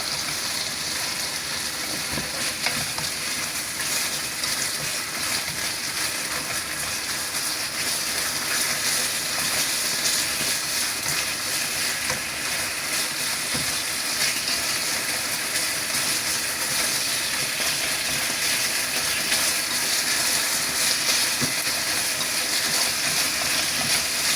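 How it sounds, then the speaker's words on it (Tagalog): A pork chop fries in a pan, producing a constant, even sizzle-like hiss that holds steady throughout without pauses. "Luto muna tayo ng ating pork chop, guys."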